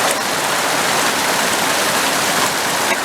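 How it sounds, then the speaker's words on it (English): Steady rain falling outdoors at an off-grid camper, a loud, dense, even hiss of drops with no talk and no letup. "I'll roll a clip of the rain that we had right now."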